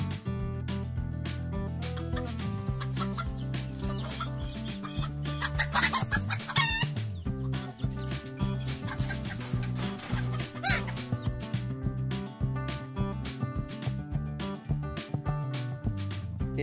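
Black chickens on a Southeast Asian farm cluck steadily while a rooster crows once, all under continuous background music.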